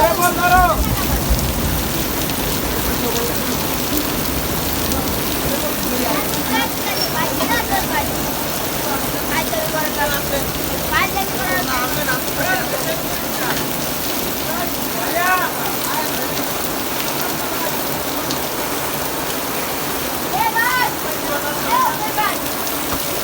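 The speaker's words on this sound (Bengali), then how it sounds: "এত জোরে বৃষ্টি আমি প্রথম দেখলাম" Heavy rain pours down steadily over a volleyball stadium in Gulistan, Dhaka, in a dense, continuous roar, with voices talking now and then over the downpour.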